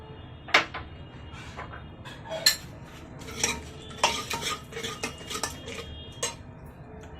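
Spoon scraping and clinking around a pan as turmeric powder and kitchen masala are mixed in, a run of sharp metallic taps and scrapes with a few louder knocks, close up, no talking.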